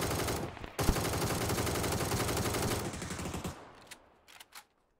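Rapid automatic gunfire in the battle-royale shooter PUBG, including an M16, rattles in a dense continuous burst for about three seconds, then thins into a few scattered, fading shots with no talking.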